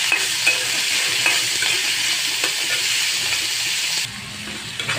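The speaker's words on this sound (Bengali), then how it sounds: "এখন আমি পেঁয়াজগুলো গ্রেট করে দিয়ে দিব" Grated onions hit hot oil left over from frying shing fish, giving a loud, continuous crackling sizzle with stirring. The sizzle drops noticeably softer near the end.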